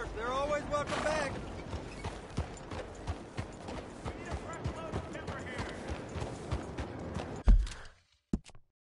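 Horse hooves clopping in Red Dead Redemption 2: a steady, rhythmic run of close hoofbeats that carries on for several seconds, then slows and stops, with voices talking over it.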